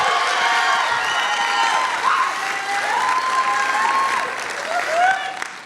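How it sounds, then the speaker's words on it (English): Live audience at a podcast show applauds the two hosts, steady dense clapping mixed with cheers and whoops throughout, loud and close, swelling briefly near the end. "Let's give them a big round of applause."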